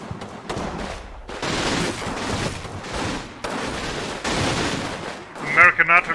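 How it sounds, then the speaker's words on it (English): American artillery shells ranging in during a Combat Mission: Rome to Victory battle against partisans, several heavy rumbling blasts in separate waves, with a sharper crackle near the end. "American artillery is certainly ranging in"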